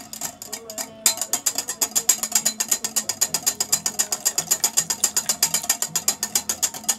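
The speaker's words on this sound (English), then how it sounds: "This is a perfect whisk for this." Wire whisk beating milk and eggs in a bowl for a jalapeno pie, a fast steady rhythmic clatter of regular strokes throughout, close and fairly loud, with no talk.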